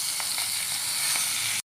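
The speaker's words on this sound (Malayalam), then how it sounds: "നമുക്കൊന്ന് വറുത്തെടുക്കാം" Marinated prawns fry in oil, producing a loud, dense, continuous sizzle with a few faint pops, steady throughout and cutting off abruptly at the end.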